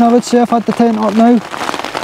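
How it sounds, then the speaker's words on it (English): Heavy, constant rain drums on a tent during wild camping in miserable weather, a steady patter beneath someone speaking close by that carries on after he stops. "Ever since I've got the tent set up, this rain has just been constant."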